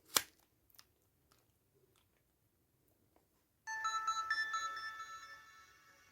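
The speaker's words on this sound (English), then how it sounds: "Some of these Samsung phones I have like optional startup sounds." A Samsung SGH-250 mobile phone powers on: a sharp click and a few faint ticks, a pause, then a bright electronic startup melody of rising tones that plays for about two and a half seconds and fades.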